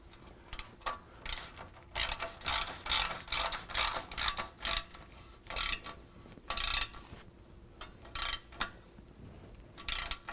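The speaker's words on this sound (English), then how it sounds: "the first thing we're going to tighten down is our ball clamp" A ratchet wrench with a 12 mm socket tightens an exhaust ball clamp on a Flowmaster Force II exhaust system, giving quiet, close bursts of rapid clicking in short irregular strokes with brief pauses between.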